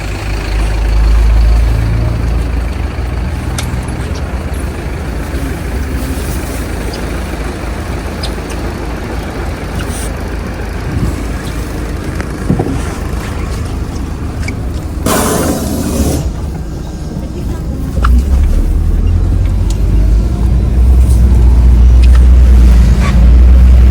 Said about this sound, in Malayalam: ഇതാട്ടോ ബസ് വന്നിട്ടുണ്ട് നമ്മളിനി ബസ്സിൽ കയറണം